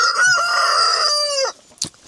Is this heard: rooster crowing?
yes